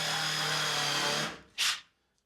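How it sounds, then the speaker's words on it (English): A Makita drill fitted with a countersink bit boring through wood: a close, steady motor whine for just over a second, then a short spin-down burst before it stops. "and I can just drill through,"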